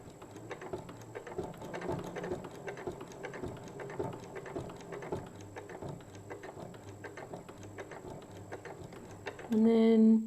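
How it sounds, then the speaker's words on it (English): A sewing machine stitches fabric for a wrist strap pin cushion, running in a quiet steady rhythmic ticking and whirring before a louder, brief burst of motor noise at the very end. "the needle goes down onto that line, and sew a couple of stitches and then do a reverse stitch"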